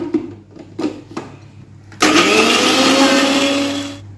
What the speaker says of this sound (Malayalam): ഇപ്പൊടി വെള്ളമിട്ടിട്ട് അരച്ചിട്ടെടുക്കണം.